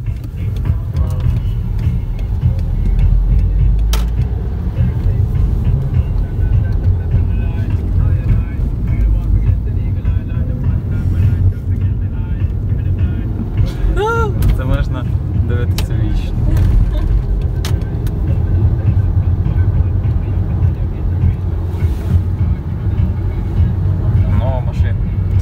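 A car drives steadily with a low, constant engine and road rumble inside the cabin, while someone talks over it most of the time.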